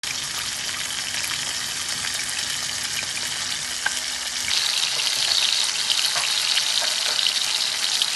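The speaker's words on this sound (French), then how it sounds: "je viens de mettre la poêle au feu. On va commencer à griller la viande" Pork shoulder chops sear in a hot frying pan, giving a continuous loud sizzle and crackle that shifts to a brighter, hissier spatter partway through.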